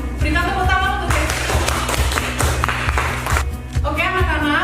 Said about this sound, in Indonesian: Berikan tepuk tangan untuk Kesi.